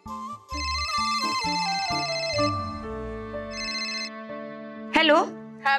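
A telephone ringtone plays as a repeating melodic electronic tune, fairly loud and close, running for several seconds before stopping; a voice speaks briefly near the end.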